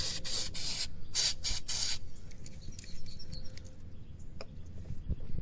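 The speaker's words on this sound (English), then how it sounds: "But we're just going to spray it anyway." Short hissing bursts of spray cleaner on a Corvette's MAF sensor, several quick close blasts in a row, followed by quiet workshop ambience with faint chirps.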